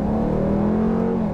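A Dodge Durango R/T with a HEMI V8 pulls hard on a backroad, a steady loud engine drone accelerating without a break and no talk over it.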